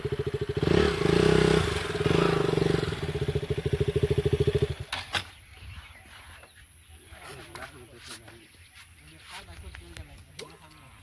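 A motorcycle engine idles and putters loudly while the bike is turned around, then cuts off abruptly, leaving scattered clatter and faint background sounds.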